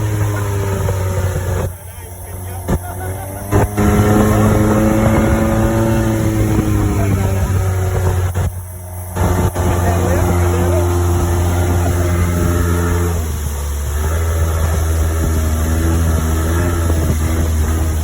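Motorboat engines drone loudly at a floating market in Thailand, a close, steady roar with shifting tonal whine and brief dips, while voices talk over it throughout.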